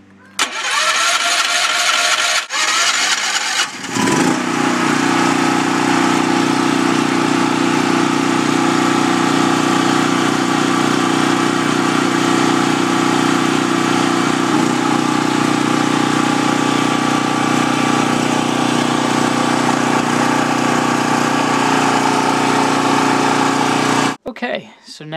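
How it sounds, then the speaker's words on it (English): Backup generator engine starting after a priming, then running steadily and loudly at a constant idle for over twenty seconds before cutting off. "so now the generator's online"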